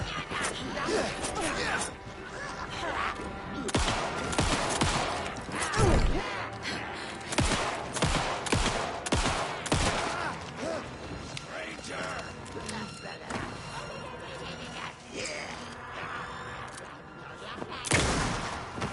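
Gunfire in the Alan Wake 2 video game cracks out in a series of loud, sharp shots spread irregularly across a tense scene, mixed with thuds and impacts while a person talks at times.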